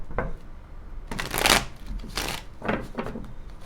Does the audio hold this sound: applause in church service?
no